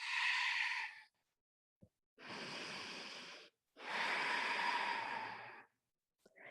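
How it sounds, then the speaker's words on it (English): Slow, deep breaths during a gentle yoga session: three long, airy inhales and exhales taken close to the microphone, separated by brief silences, with no talking. "Keep breathing."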